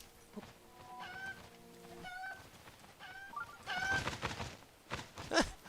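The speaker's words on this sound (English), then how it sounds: "Ooh, look, it's a chicken." A chicken clucks and squawks in a series of short bright calls in the video game Zelda Breath of the Wild, growing louder toward the end, with no talking.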